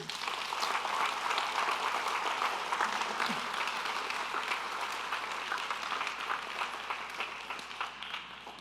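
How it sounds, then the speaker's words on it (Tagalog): At a midweek prayer gathering, a congregation claps in a steady, moderately distant patter that runs about eight seconds and slowly thins toward the end. "pwedeng pumalakpak ka kay Lord at this time"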